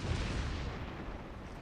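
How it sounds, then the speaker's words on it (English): Enemy naval gunfire striking near an island during a World of Warships battle, heard as a dense, continuous low rumble of booming shell impacts with no clear gaps. "that was a bit of enemy return fire there at the island"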